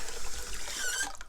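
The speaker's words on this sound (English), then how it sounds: "add that stuff into the bucket when I pour the water on it" Water poured onto chicken feed in a bucket, a brief close trickle and splash of liquid soaking into dry feed, no voices.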